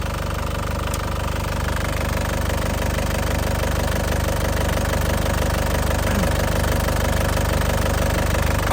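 A warm 2015 Isuzu Panther Grand Touring diesel engine idles steadily up close, a continuous low rumble with a faint rhythmic diesel knock throughout and no talking.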